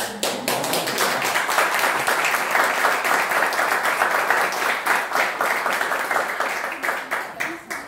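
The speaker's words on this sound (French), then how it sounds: "On peut applaudir Clotilde qui fait un travail." At a French conference on Islam and citizenship, the audience applauds. The clapping is loud and continuous, with a rapid patter of close individual claps, and it holds strong for several seconds before easing slightly near the end.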